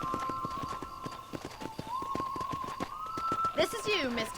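Horses gallop in the Western video game Red Dead Redemption, a fast steady clip-clop of hooves under a sustained musical tone, ending with a loud whinny near the end; voices can be heard underneath.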